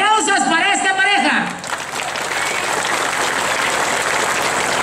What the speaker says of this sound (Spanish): ¡Aplausos para esta pareja!